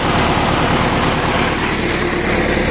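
Loud, close tractor engine idles in a steady, even chug, a continuous dense rumble that holds unchanged throughout with nothing else heard.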